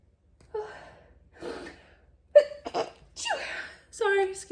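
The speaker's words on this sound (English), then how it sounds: "I'm gonna sneeze." A person sneezes indoors after a couple of building gasps, the sharp sneeze bursts loud and close, followed by a softer breathy sigh.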